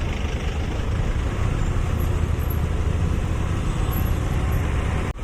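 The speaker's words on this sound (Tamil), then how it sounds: "ரொம்ப ஓவராக இருக்குது காய்ஸ் டிராஃபிக்கு." Heavy road traffic rumbles steadily nearby, a dense continuous roar of cars, trucks and buses with no breaks, ending in a brief sharp click.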